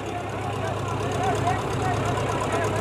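A tractor engine idles steadily at a tractor pulling contest, giving a dense, continuous low rumble with a faint rhythmic pulse. Crowd and other broadband noise sit on top throughout.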